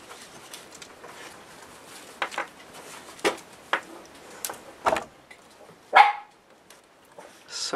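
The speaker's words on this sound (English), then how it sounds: "Sorry for that, that's my little dog." A small dog barks in a few short, scattered yaps amid soft indoor handling noises, fairly near and moderately loud, with no talking.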